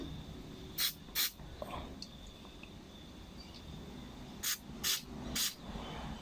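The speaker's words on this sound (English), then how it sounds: "when you apply a carburetor cleaner from this side" Carburetor cleaner sprayed through the nozzle of a Honda GX25/GX35 carburetor, with short sharp aerosol hisses in two pairs near the start and a cluster of three toward the end over quiet background.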